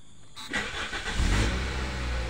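A Toyota Altis engine cranks briefly from cold and catches, settling into a steady idle close by.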